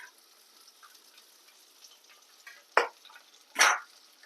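Curry leaves dropped into hot oil in a pan for a cucumber and pumpkin vadiyalu pulusu crackle in two short, sharp sizzling bursts over a quiet kitchen background.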